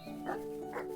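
A dog in the Everdream Village game barks twice in short, evenly spaced yaps over a quiet background hum.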